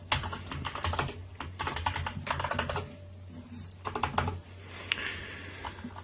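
Fingers typing on a computer keyboard to log into a system, rapid close clattering keystrokes in bursts with brief pauses, moderately loud over a faint steady hum.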